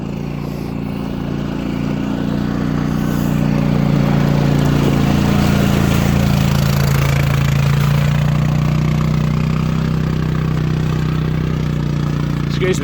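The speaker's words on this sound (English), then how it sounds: "It's not every day we get a quad bike on the mountain" A quad bike engine runs steadily on a cloud-covered mountainside in Snowdonia, a low droning hum that grows a little louder and nearer partway through, with no voices.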